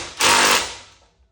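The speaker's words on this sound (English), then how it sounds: "grab our 14 millimeter socket and our impact and button it down" An impact wrench fitted with a 14 mm socket tightens a bolt while installing an Ironman lift on a 2024 Subaru Crosstrek Wilderness, giving one loud, close burst of hammering that quickly trails off.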